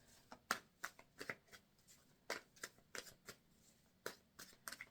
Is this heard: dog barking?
no